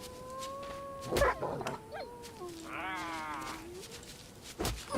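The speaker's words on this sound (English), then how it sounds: "Another wolf." A wolf in the survival video game Force of Nature 2 gives a drawn-out wavering howl with rising and falling tones, fairly near, with a few short thumps and game noises around it.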